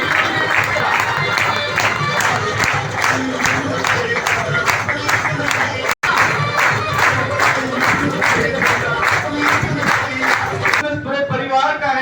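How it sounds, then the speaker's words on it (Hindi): An audience at a company event gives rhythmic, sustained clapping, loud and close, with cheers mixed in as area team coordinators are welcomed; the applause cuts off abruptly near the end, giving way to voices. "जोरदार तालियों के साथ स्वागत करेंगे सारे एरिया टीम"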